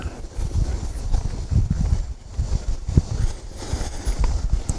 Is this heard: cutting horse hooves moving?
yes